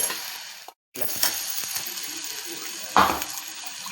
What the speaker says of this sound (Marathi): आपलं मसाल्यातलं पाणी होतं ना ते मसाल्यातलं पाणी टाकते थोडं थोडं टाकते